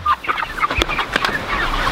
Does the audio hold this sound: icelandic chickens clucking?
yes